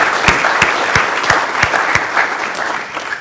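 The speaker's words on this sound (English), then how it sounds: "So I'll give him a round of applause." Audience applause at a school all-activity awards celebration, a loud steady clatter of many hands with a few sharp, near claps standing out in a rhythmic series, fading slightly toward the end.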